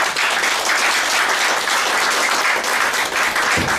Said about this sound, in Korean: 우리 김성만 이사장님께 뜨거운 박수 한번 다시 한번 보내주시기